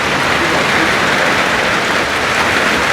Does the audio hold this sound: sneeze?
no